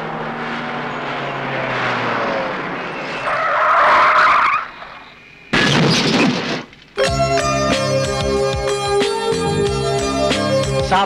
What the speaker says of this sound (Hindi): साहब पीछे वाली गाड़ी ने ठोक दिया।